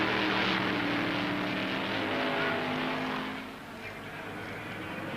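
Improved Production touring cars race at Warwick Farm circuit in 1971, engines roaring loudly nearby before fading slightly as they pass, a continuous motorsport drone.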